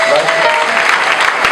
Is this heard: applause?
yes